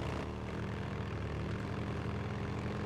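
Helicopter rotor and engine drone from the video game Days Gone, a steady, continuous low hum holding at an even level throughout with no talking over it.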